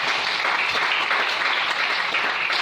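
A church congregation applauding the Lord, dense steady clapping from a crowd filling the room throughout, loud and continuous with no pause.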